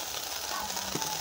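Beef stew pan sizzling once its water has cooked off, a steady, close hiss of frying that stays even for about a second.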